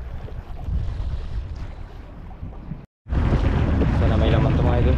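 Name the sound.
waves on the sea at night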